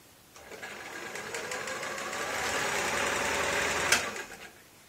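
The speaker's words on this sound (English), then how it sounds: "We got the little sewing machine up here." A sewing machine whirs into a steady, fast stitching rattle for several seconds, then slows and stops, close and continuous.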